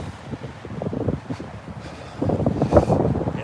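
Gusty wind buffets the microphone on a cold, windy walk through a city, rumbling in uneven surges that swell louder toward the end, with no voices.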